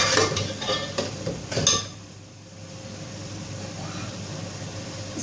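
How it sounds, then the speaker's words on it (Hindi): Masala of tomatoes, green chillies, mint and lemon fries in a pan, a spatula scraping and clinking a few times at first, then a quieter continuous sizzle. "टमाटर, हरी मिर्चें, पुदीना, लेमन, ये सब चीज़ें डाल के हम मसाला भूनेंगे"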